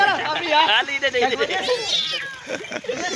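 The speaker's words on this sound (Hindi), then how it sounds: "बिल्ली आ चुकी है।" A cat meows several times outdoors in a village setting, with rising and falling calls close by over steady background noise.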